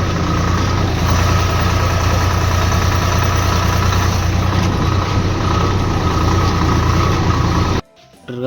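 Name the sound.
tractor engine idling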